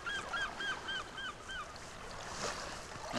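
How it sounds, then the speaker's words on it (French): Seagulls calling by the sea on the French coast: a short run of repeated honking cries early on, then a noisy wash of wind and surf, with no talk. "Vous entendez les mouettes?"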